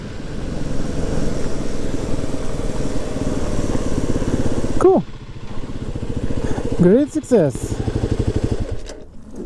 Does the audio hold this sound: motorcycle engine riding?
yes